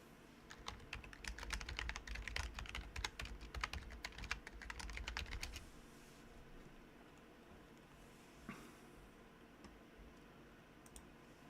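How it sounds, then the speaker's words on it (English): Rapid clattering keystrokes on a computer keyboard sound for about five seconds, fairly close but quiet, then stop and leave only a low room hum. "I got so excited typing that I did not spell that anywhere near correctly."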